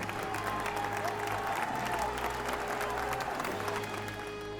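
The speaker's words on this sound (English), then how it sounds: "The crowd screamed." A crowd roars at a guillotine execution: a dense, steady wall of many voices and clamour that holds a constant loudness from start to end.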